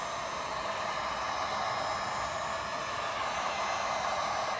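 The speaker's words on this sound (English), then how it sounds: "We're gonna use the heat gun until it turns red over the tip." A heat gun warming vinyl weather-strip trim on a Honda Civic, giving a steady, unbroken blowing hiss throughout at close range.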